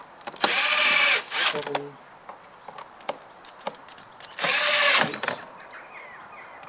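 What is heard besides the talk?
screws tightened into plastic car airbox with power driver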